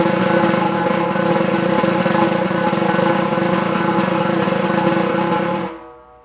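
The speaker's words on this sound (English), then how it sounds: "You might notice you don't need to pump your hands very fast to get a pretty nice sustained buzz roll sound" A sustained buzz roll on a snare drum, the hands pumping fast enough that the individual buzzes merge into one continuous, even rasp for several seconds before stopping abruptly.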